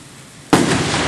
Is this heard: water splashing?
no